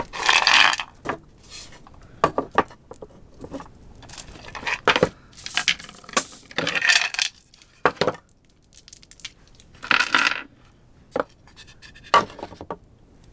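Dice are handled and rolled for a pick-a-pile reading, giving irregular bursts of rattling, clacking and crunching sounds with pauses between them, close and fairly loud.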